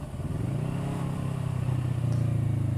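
A motorcycle engine with its exhaust baffle fitted runs close by with a steady, throbbing low drone that builds slightly in loudness, heard alone.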